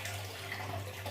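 Cold water rushes steadily through a wort chiller on a Grainfather homebrew setup, a continuous, even flow with a low hum underneath and no talking.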